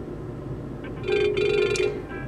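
A cell phone rings outside a Faraday bag, a short electronic ringtone burst rising midway over a low background hum.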